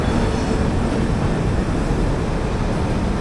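WDS6 diesel shunting locomotive number 36544 moving during shunting work, heard as a loud, steady, close rumble of engine and rolling stock that continues without a break, with no voices.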